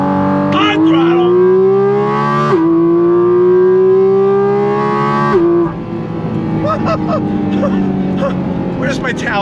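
A Porsche 718 Cayman GT4 RS runs under throttle on the same engine as the 911 GT3, a loud close droning tone that holds steady and then shifts pitch, with a voice talking over it.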